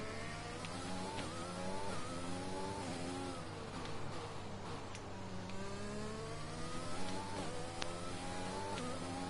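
A Ferrari Formula 1 car in the racing game F1 2020: a high-pitched engine whine rises and falls through repeated gear changes as it winds up, with other cars buzzing faintly in the background.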